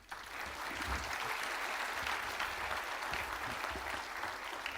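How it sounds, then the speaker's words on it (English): Sustained applause from a large audience at a university MBA convocation ceremony in Mumbai, a dense, even clapping that fills the hall steadily without pause. "celebrate this remarkable achievement with a resounding round of applause."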